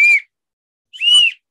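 A handheld whistle gives two short, shrill blasts about a second apart, the second slightly longer, loud and close with silence between.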